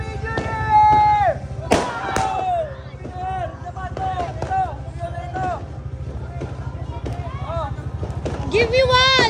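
New Year's firecrackers pop and bang repeatedly at varying distances under a steady low rumble, while people talk and shout excitedly throughout.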